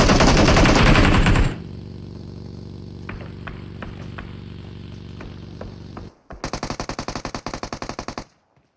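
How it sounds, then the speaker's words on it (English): Gunfire in PUBG Mobile: a loud burst of automatic fire, then a quieter stretch with scattered distant single shots, then another rapid automatic volley near the end. "So I Am Ron is still shooting from the left"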